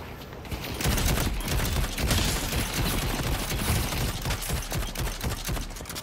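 Warden's weapon firing in Valve's Deadlock, rapid and loud, a continuous stream of close shots pulsing in quick succession for several seconds.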